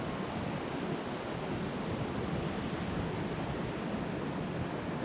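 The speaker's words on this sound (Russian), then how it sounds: "Тихий океан в Австралии" Steady, broad rushing roar of Pacific Ocean surf on a Gold Coast beach in Australia, continuous and unbroken throughout, with no voices.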